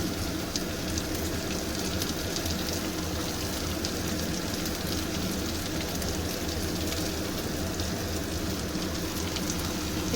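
Two large chopped onions frying hard in a pan for a mixed lentil dal, giving a steady, dense sizzle and crackle that runs unbroken throughout with no talking.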